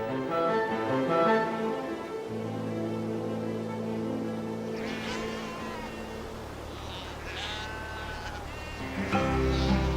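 Sheep on a salt marsh farm bleat in overlapping calls, some drawn-out and wavering, several near and loud against an open outdoor background.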